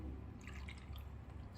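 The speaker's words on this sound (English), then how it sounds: "Just pour the solution" Vinegar and warm water solution poured through a funnel and hose into an air conditioner drain pipe, a soft, faint trickling and dripping of liquid heard close up, with no talk.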